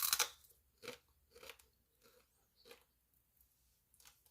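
Close, crisp crunching bites of a brittle low-carb Dubai chocolate bar, about half a dozen sharp crackly chews spaced out irregularly over quiet.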